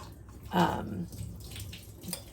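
Water draining from a jar of sprouting seeds and beans through a holed lid, a short close splash that swells then trickles off into faint dribbles.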